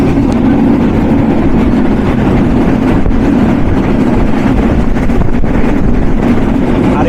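Nilsagar Express passenger train on a rainy run from Dhaka to Ibrahimabad, heard as a loud, unbroken rumbling roar of the fast-moving carriage with faint scattered clicks and no speech.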